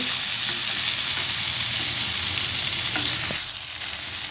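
Potato and tomato cooking in a pan for a potato omelette, stirred with a spatula under a loud, continuous, close frying hiss, with a few scraping knocks before the sizzle eases slightly near the end.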